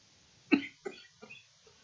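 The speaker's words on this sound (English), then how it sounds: "Coughing. Coughing." A sharp cough followed by two or three weaker, raspy coughs, close and fairly quiet, with silence between them.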